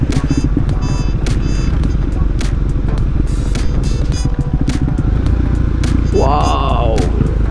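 A KTM Duke 390 motorcycle rides offroad with a steady close engine drone, rattles and clatter from the rough ground, and a rising rev swell near the end, while a rider talks over it.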